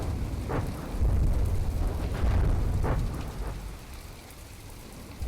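A battleship blows up in the naval combat game From the Depths, a rumbling, rain-like roar of debris and blasts that swells and fades over several seconds, with no talk.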